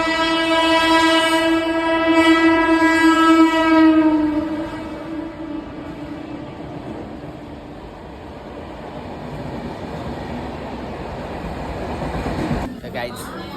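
A train rolls in with a long, loud horn blast at the start, then the rumble of carriages continues with voices in the background.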